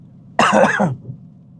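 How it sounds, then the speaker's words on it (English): A single short, close cough or throat clear, abrupt and rough, in an otherwise quiet room. "sorry if I'm going to be coughing a little bit."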